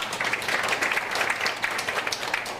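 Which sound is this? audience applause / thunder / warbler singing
audience applause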